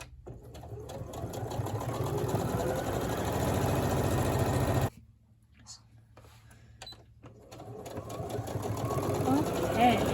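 A sewing machine stitches binding along a quilt edge toward a corner, running in a steady rapid hum for several seconds, then stopping abruptly with quiet clicks before starting up and running again.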